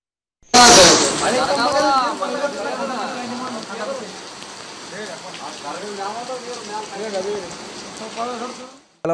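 Heavy rain pours over a flooded village in Kalaburagi, where water has entered a Shambhulingeshwara temple. A steady, dense hiss of rainfall runs throughout under continuous talking.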